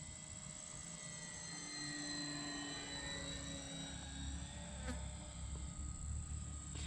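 A radio-controlled P-51D Mustang Master Series Mark II model airplane on its maiden flight hums overhead at a distance, its faint, steady motor whine gliding slowly up and down in pitch.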